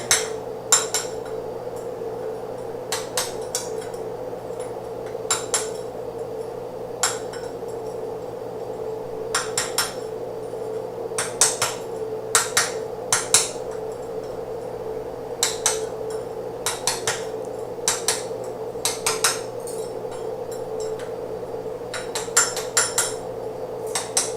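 Slag is chipped off a weld with a hammer in a quiet workshop, sharp metallic clinks in irregular bursts of two to four strikes over a low steady hum, with no talking.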